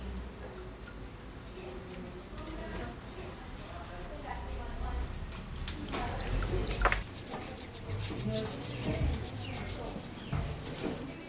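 Excavated ceramic fragments are washed and scrubbed with a rhythmic, close brushing and rubbing that keeps going, with wet drips and splashes. The scrubbing grows louder in the second half, and a narrator talks over it.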